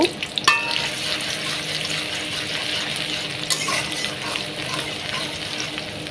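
Onions sizzle steadily in hot oil in a pan, with a few clinks from stirring near the start; no one speaks.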